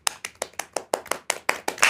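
Applause in a theatre after an actor's speech, about ten distinct, evenly spaced claps close by, growing slightly denser at the end.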